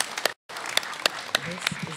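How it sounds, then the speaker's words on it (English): Audience at a spoken word poetry event claps for the poet, scattered sharp claps with a brief silent gap, mixed with some voices in the room. "Applaud the poet, not the points."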